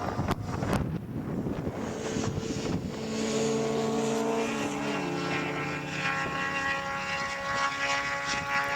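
A historic touring racing car engine roars past down a back straight, its pitch climbing steadily as it accelerates, loud and sustained, with wind buffeting the microphone and no talking.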